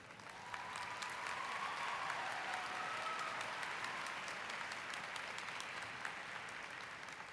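A high school graduation audience, the Class of 2007 ceremony, applauds in a steady, sustained wash of many hands clapping that stays even throughout, heard from within a large hall.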